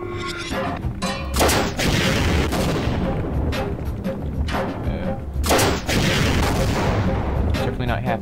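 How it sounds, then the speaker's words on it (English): Mortars firing down at the Gonarch in the video game Half-Life: Source, a series of heavy booms and thuds, several sharp blasts among rumbling gunfire, with a voice talking over parts of it. "Firing mortars down on it."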